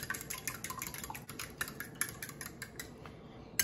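A utensil taps and clinks against a bowl while an egg, cheese and milk quiche filling is mixed. The light, quick strokes run steadily at close range with no talking.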